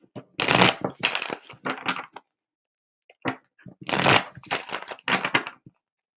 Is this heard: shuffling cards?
yes